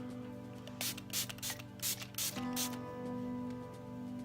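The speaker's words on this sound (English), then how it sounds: "first I'm gonna start off with my rose water spray" Several quick bursts from a rose water spray bottle, about six short hissing pumps in an irregular rhythm, close and fairly quiet over a faint hum.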